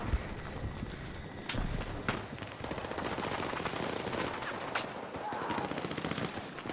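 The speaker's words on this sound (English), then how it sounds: "Can't even really see what I'm shooting at there." Gunfire in Battlefield 6 multiplayer combat: dense, continuous bursts of automatic weapon fire with scattered sharper shots over a busy battlefield background, fairly distant and steady throughout.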